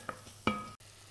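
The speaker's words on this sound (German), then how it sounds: "Jetzt die Zwiebeln hier kurz ein bisschen anschwitzen." Chopped red onions sweat in melted butter in a pan, with a short burst of sizzle and a scrape from stirring, then a quieter steady hiss.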